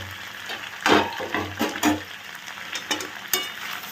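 A pot of food stirred after its lid is lifted, with a few clattering knocks and scrapes of a spoon and a soft sizzle beneath, irregular and close.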